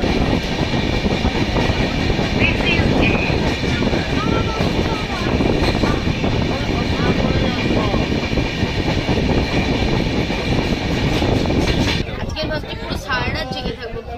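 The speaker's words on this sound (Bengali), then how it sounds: "দার্জিলিং মেল ট্রেনের ভেতরে।" Inside a sleeper coach of the Darjeeling Mail, the running train gives a loud, continuous rumble and rattle of wheels and carriage throughout, with voices talking over it and a brief drop in level near the end.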